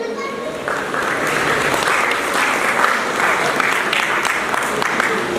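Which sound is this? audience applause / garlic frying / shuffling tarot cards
audience applause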